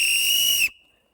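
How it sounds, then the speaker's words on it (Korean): A whistle carried for scaring off wild animals gives one shrill, steady blast of under a second, loud and close, then cuts off sharply into silence. "이렇게 짐승을 쫓아내는 호루라기를 메고 이렇게 항상 다녔던 것입니다"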